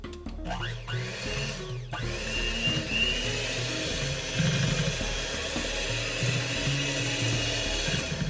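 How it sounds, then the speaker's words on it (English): An electric mixer whirs to life, its motor pitch climbing as it spins up, then settles into a steady buzzing hum with faint clatter. "I have my blender mixer here. We'll go ahead and start us up."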